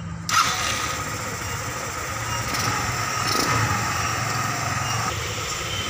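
A Rusi Rapid150 scooter with a dirty starter fires up abruptly at close range and settles straight into a steady, buzzing idle that runs unbroken to the end.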